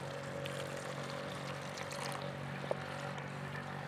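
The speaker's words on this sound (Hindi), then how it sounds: "अब इसमें हम आधा गिलास पानी ऐड करेंगे" Half a glass of water poured into beef mince keema with peas and chopped green chillies, cooked in a village kitchen; a steady, even pouring hiss runs throughout, fairly soft, with no talk.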